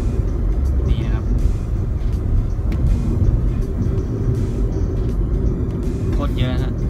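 Dense, continuous roar of heavy roadside traffic with trailer trucks and oil tankers, a steady low rumble close by with a couple of brief higher whines from passing vehicles, and talk over it.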